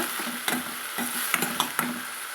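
Tomatoes sauté in a pan for a radish gravy, a steady low sizzle punctuated by several spoon-stirring strokes against the pan, close and moderately loud.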